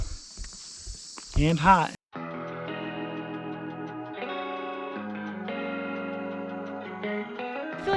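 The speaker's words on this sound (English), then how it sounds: "I feel like these cicadas are screaming at me every time." A steady, layered electronic-sounding insect drone fills the scene at Mesa Arch in Canyonlands National Park, Utah, loud cicadas buzzing continuously after a brief burst of nearby speech.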